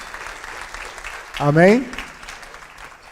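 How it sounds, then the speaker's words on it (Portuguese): Church congregation applauding during a Portuguese-language sermon, a steady wash of clapping running throughout, with a voice briefly speaking over it midway. "Vamos aplaudir Jesus porque Ele é bom."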